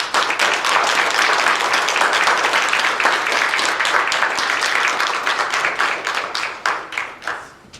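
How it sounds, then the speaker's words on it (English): A church congregation at Konnoak Baptist applauds military veterans standing among them, brisk close clapping that builds quickly, holds strong, then thins into scattered claps as it dies away. "Everybody give these guys a round of applause."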